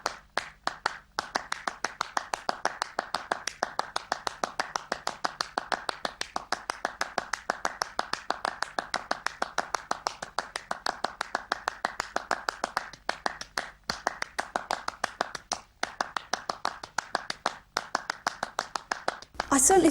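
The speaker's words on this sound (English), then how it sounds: "Reich began a series of experimental pieces based on shifting and repeated rhythmic patterns, culminating in his famous clapping music." Steve Reich's Clapping Music plays as a steady, rapid run of crisp hand claps in interlocking repeated patterns, continuing evenly with a couple of brief gaps and no talking over it.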